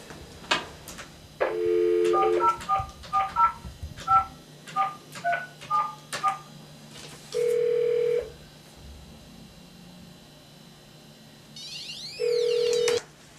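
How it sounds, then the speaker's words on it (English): A cell phone being dialed, with a quick run of keypad tones, then a steady ringback tone, a pause, and a second ringback tone, all fairly clear with no talk. "You can call my cell phone."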